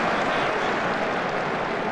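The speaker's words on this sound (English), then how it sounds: "He got a round of applause from Portsmouth fans." Portsmouth fans applaud in a stadium. The clapping is dense, even and crowd-wide, heard from a distance as a continuous wash with no distinct voices.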